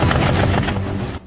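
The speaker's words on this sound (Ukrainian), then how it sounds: "Під час навчань кулеметники з екіпажів БТР в Кірпі стріляли по мішенях з відстані 600-800 метрів, та ще й в русі." A Browning machine gun mounted on a BMC Kirpi MRAP fires a rapid, loud burst of shots at targets during a training exercise while on the move, the rounds blurring into a continuous rattle.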